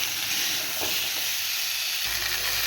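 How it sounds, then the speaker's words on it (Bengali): Vegetables with turmeric powder and salt sautéing in a pan for a Bengali shukto, a steady close sizzle and hiss with light stirring throughout, no talking. "এর মধ্যে দেবো হলুদ গুঁড়ো, স্বাদ মতো দেবো লবণ, দিয়ে কিছুক্ষণ সাঁতলে নেব।"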